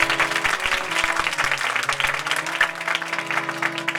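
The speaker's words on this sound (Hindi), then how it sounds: "जोरदार तालियां यहाँ वापस खुदा के लिए" A church congregation claps steadily and enthusiastically throughout a Palm Sunday worship meeting, a dense wash of applause over a sustained musical tone.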